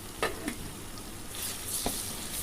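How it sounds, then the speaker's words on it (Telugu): Ginger with salt and turmeric fries in oil for chicken curry, a close, steady sizzle with a few quick spatula scrapes. "మంచి అల్లం వేగేటట్టు బాగా కలపండి"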